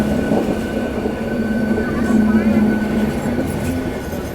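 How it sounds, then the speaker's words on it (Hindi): An AC express train rolls along slowly with a steady low rumble and faint squealing tones from the wheels, heard from inside a carriage. "हमारी ट्रेन ऐसे अभी क्रॉल करते हुए चल रही है।"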